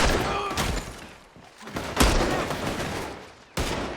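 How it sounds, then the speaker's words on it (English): Heavy gunfire from the video game Red Dead Redemption 2, several loud booming shots and thuds spread unevenly over a few seconds, with no talking. "They're shooting right at me."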